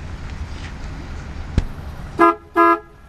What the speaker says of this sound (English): Hit the horn.